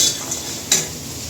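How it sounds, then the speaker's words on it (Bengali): Fish and dried lentil dumplings fry in oil in a pan, a short steady sizzle with one brief scrape partway through and no voices. "এদিকে মাছটা ভেজে নিচ্ছি, এদিকে বড়ি ভেজে নিচ্ছি।"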